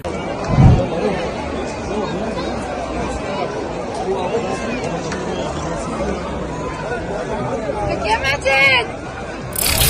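Dense crowd chatter fills a busy Lebanon airport where refugees queue, a steady babble of many overlapping voices with occasional nearer shouts.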